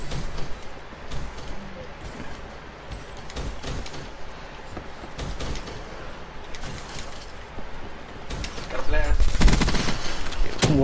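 Gunfire in a Black Ops 3 multiplayer match crackles as scattered shots and short volleys over a busy in-game backdrop, growing louder and denser toward the end.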